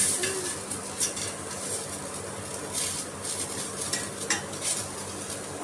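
A tomato roasting in a hot pan for a chicken dish gives a steady close sizzle with light scraping and stirring, and a few brief clicks along the way.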